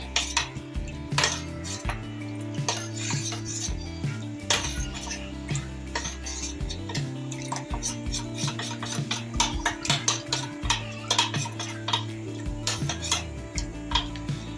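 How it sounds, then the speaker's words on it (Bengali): A spoon clinks and scrapes steadily against a bowl while custard mixture is stirred, the metallic taps quick and continuous and fairly close, with no talking. "এটা আমি ভালোভাবে মিক্সড করে নেব। এটা যেন জমাট বেঁধে না থাকে।"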